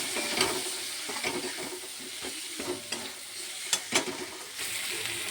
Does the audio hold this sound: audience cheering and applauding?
no